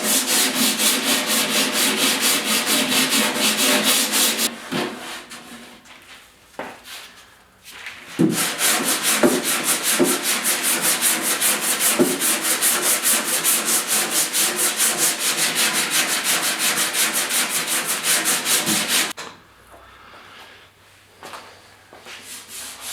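Hand sanding with 80 grit sandpaper on a fiberglass Porsche 911 decklid gives a loud, close, rasping scrub in long steady strokes, with a short pause midway and a quieter stretch near the end.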